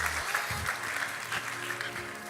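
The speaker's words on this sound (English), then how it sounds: "Can we please have a round of applause for him?" An audience at an African culture and design event applauds, a moderate patter of clapping with a few louder swells across the short stretch, some faint voices mixed in.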